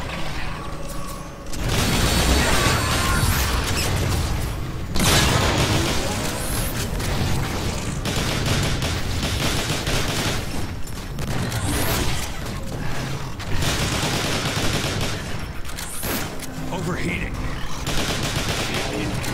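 Sustained gunfire from the War for Cybertron video game, dense bursts of automatic weapons and booming blasts firing almost continuously, loud and close, with mechanical clanks and a voice speaking briefly.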